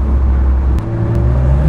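Morgan Plus Six (2023) in Sport Plus mode with exhaust valves open, a deep loud engine rumble holding steady and then rising slightly in pitch.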